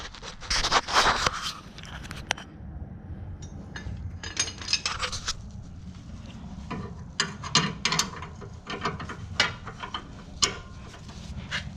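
Wrench turning the 13 or 14 mm bolts on the shock of a 2019 Ram truck, with bursts of ratcheting clicks and metal scraping close by, separated by short pauses.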